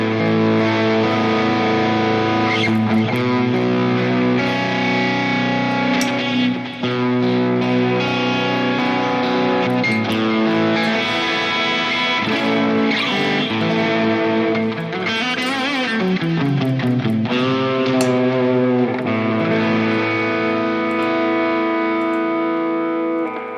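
Heavily distorted electric guitar plays sustained chords and bends, loud and continuous, with a slight chorus shimmer and no talking.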